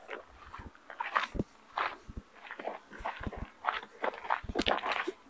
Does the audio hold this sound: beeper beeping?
no